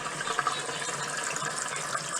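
Tap water runs steadily through a newly installed Filtrete Advanced Water Filtration Kit in a mobile home sink, giving a continuous close gushing wash with no voices.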